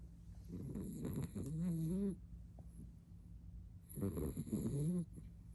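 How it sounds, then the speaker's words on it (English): Soft, rhythmic snoring in two drawn-out bouts with a quiet pause between, close by and low-pitched, with no talking. "She's literally snoring."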